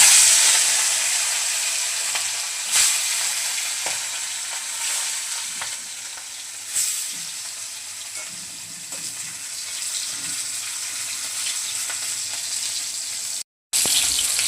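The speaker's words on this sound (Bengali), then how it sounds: "এখন নুন হলুদ মাখানো মাছগুলো ভেজে নেব।" Turmeric- and salt-coated rohu fish pieces fry in hot oil in a kadai, giving a steady bright sizzle throughout with a couple of sharp spatters and brief stirring clatter, no talking.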